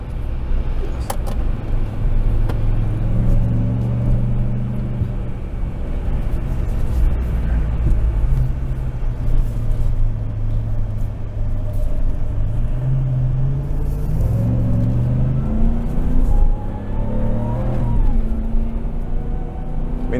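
A RAM TRX truck driving fast on an off-road short course, with loud continuous engine roar and drivetrain rumble, rising and falling revs, and jolting rattles from inside the cab.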